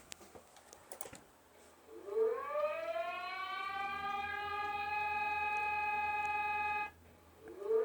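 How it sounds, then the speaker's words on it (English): A Brazilian dam-failure warning siren winds up from a low tone into a loud, steady multi-tone wail, holds for several seconds, then cuts off abruptly, after a few keyboard clicks at the start. "This one is part of their siren system"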